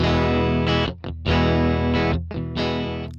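Saturn distortion on a bright, harmonically rich synth tone whose drive is swept by an LFO, producing gritty sustained notes broken by short dips and cutoffs, loud and alone.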